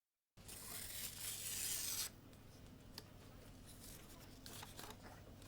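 A paper shredder chewing through paper, a loud rough grinding tear for about two seconds before it cuts off, then quieter rustling and a low background hum.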